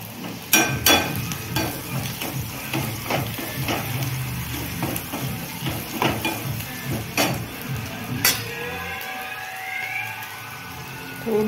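Onion sautéing with turmeric in a pan for a dry potato sabji, with a steady sizzle and a series of sharp spoon scrapes and clinks against the pan as it is stirred.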